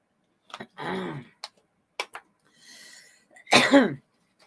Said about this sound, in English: I don't know why this is going to make me cough